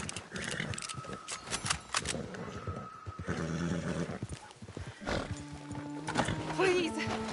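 A horse neighs in the video game Red Dead Redemption 2 amid busy game sounds, with a whinny rising near the end while voices talk over most of the scene.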